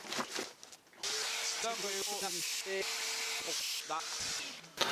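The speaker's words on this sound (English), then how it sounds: "it is imperative that you have a hoover and hoover up any of the dust," A hoover runs with a steady, loud hissing whoosh, cleaning dust from the motors of a DJI Inspire 2 drone. A voice speaks over it at times, and there are small knocks as the nozzle moves.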